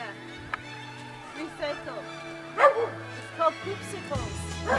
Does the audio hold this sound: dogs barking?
yes